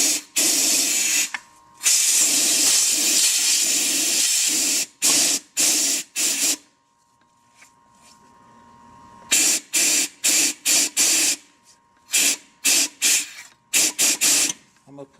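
Compressed air blows out of a hole in an oiled Ford 5R55 transmission case in loud hissing bursts, one long blast and then many short, irregular spurts separated by quiet gaps.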